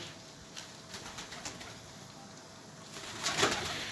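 A Konya bango pigeon coos on a balcony, soft repeated low calls with faint rustling, growing a little louder near the end.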